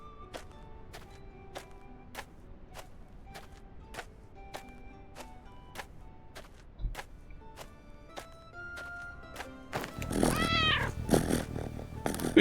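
A cat in a medieval life video game gives a short meow near the end, over a steady run of clicking ticks and faint game ambience, close and fairly clear.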